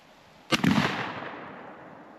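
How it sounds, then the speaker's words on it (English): One loud, close shotgun blast firing Migra TSS ammunition at a 20-yard pattern test outdoors, a sharp crack that rolls off into a fading echo for over a second. "I'm pretty sure I just jumped out of my pants when you shot."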